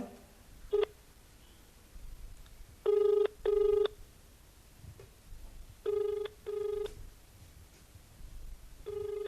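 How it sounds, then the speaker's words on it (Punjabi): Outgoing call to an immigration office number: a phone ringback tone repeats in paired bursts with short pauses, clear and fairly close over a quiet background. "ਉਹਦੇ ਉੱਪਰ ਕਾਲ ਕਰ ਰਹੇ ਆ ਰਿੰਗ ਜਾ ਰਹੀ ਆ"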